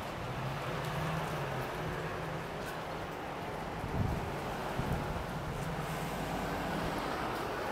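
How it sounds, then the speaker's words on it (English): Strong wind blows outdoors in a Geraldton, Western Australia street, a steady, moderately loud rushing roar with buffeting against the microphone and a few brief gusts. "That wind's really picked up"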